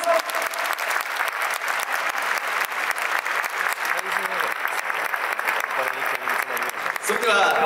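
Large crowd applauding at a Yokohama DeNA BayStars fan festival, a dense, steady wash of clapping that holds strong throughout and swells slightly near the end.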